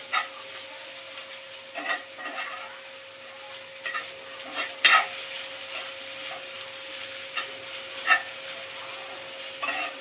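Grated fresh coconut roasting in ghee in a pan over a medium gas flame, a soft continuous sizzle with occasional sharper scrapes and stirring clicks, close and steady with no talking.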